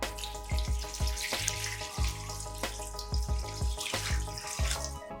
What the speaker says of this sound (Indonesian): Kemudian siram daun cincau dengan secukupnya air dingin.